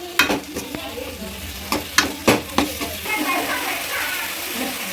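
Leftover Manchurian masala is mixed into veg Manchurian in a frying pan, with a quick cluster of loud spoon knocks and scrapes at first that gives way to a softer, steady sizzle.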